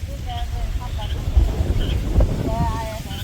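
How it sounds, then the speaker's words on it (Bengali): Strong wind gusting through a village just before rain, a steady low rumble buffeting the microphone with a few brief louder gusts throughout. "দেখেন কেমন বাতাস,"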